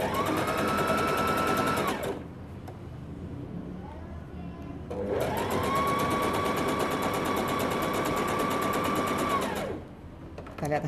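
Sewing machine stitching the shoulder seam of a child's pajamas, running in two long, steady whirring passes separated by a short pause, close and loud.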